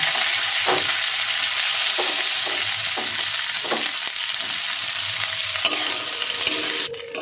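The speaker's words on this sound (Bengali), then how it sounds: "কাজু কিশমিশটা একটু দিয়ে হালকা করে ভেজে নেব" Cashews and raisins fry lightly in ghee in a kadai, making a steady, close sizzle with repeated scraping strokes of a spatula and a brief clatter near the end. No voices.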